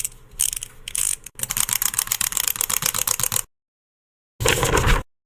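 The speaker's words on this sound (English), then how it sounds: "She played with the dragon toy, which made a really loud noise." Loud dragon toy letting out a harsh mechanical rattling, clicking burst that runs for about three seconds, then stops, and after a short silence one more brief loud burst sounds.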